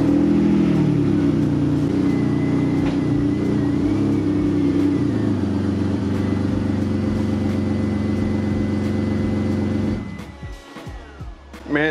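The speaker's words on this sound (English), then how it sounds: "I need to back the car up a little bit because I have no space right here to really work" A BMW E46 with an overheating coolant problem idles and is backed up, its engine humming steadily up close before cutting off near the end, followed by a few knocks.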